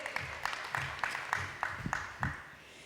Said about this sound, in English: Let's give another round of applause, ladies and gentlemen,